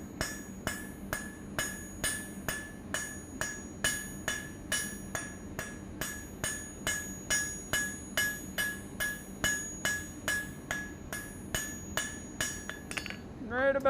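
Steady, rhythmic hammer blows on hot steel over an anvil, about two strikes per second, each with a bright clanging ring, continuing for over ten seconds.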